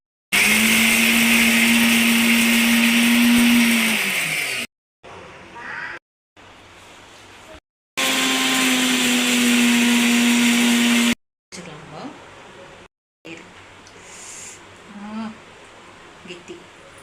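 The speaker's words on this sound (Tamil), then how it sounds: "இப்போ நம்ம வந்து இதை ஒன்று பாதி அரைக்க போகிறோம்." A mixer grinder whirs loudly as it grinds cumin and shallots, running in two bursts of several seconds each with a steady motor whine, with quieter intervals between them.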